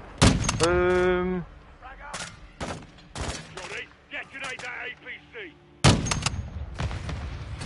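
Sniper and rifle gunfire in Call of Duty Modern Warfare 2, loud sharp shots and short bursts spread irregularly through the clip, with a player talking between them.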